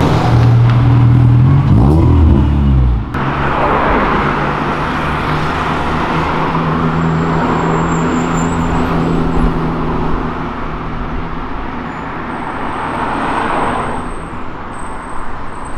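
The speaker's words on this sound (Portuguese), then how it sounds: "Estamos na Avenida Europa gravando os carros, passando pra vocês." Steady, loud roar of car traffic streaming along Avenida Europa, with an engine revving nearby at the start before the wash of passing vehicles continues without a break.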